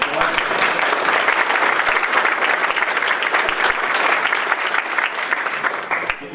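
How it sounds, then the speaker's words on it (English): Applause from an audience at an annual parish meeting, a steady dense round of clapping from a room full of people that continues for several seconds before tapering slightly. "So, round of applause."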